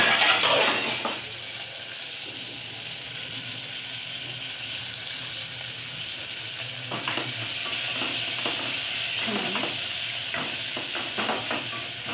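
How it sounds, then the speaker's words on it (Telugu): Green chillies fry in a pan with a steady hiss that runs throughout, while stirring scrapes and clinks come more often in the second half. "పచ్చిమిర్చి కొద్దిగా వేగేదాకా పెట్టాలి"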